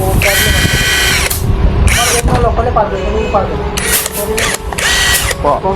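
A power tool whirs in loud bursts as nuts are taken off a Honda motorbike with its clutch plate and parts opened up, several short high-pitched runs separated by pauses, with people talking in between.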